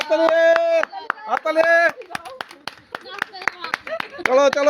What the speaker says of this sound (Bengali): চলো চলো হাততালি